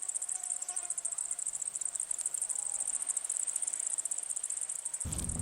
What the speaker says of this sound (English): I love hearing the insects